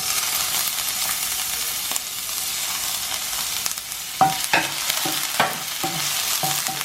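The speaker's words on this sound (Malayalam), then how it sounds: "എണ്ണ ചൂടാകുമ്പോഴേക്ക് ഞാൻ ഈ അരിഞ്ഞു വെച്ചിരിക്കുന്ന വെളുത്തുള്ളി ഇട്ടിട്ടൊന്ന് വഴറ്റി കൊടുക്കും" Chopped garlic sautéing in hot oil in a pan, a continuous close hiss of frying with stirring clacks and scrapes growing more frequent in the second half, with no talking.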